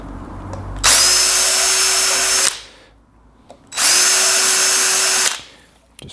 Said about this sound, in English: whiz a drill through just to make sure.